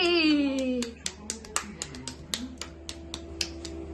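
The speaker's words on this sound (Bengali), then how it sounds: "হাততালি।" Sharp hand claps follow a sung Happy Birthday at a family celebration; the tail of the singing fades out first, then about a dozen crisp, close claps land in an uneven rhythm.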